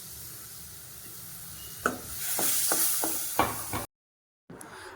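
Tomato is tipped into a hot pan of sizzling onion and capsicum gravy and stirred, with a few soft knocks against the pan before a brief silence.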